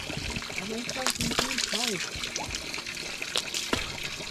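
Spring water trickles and splashes softly close by while a voice talks over it, outdoors on a rural farm in Jamaica.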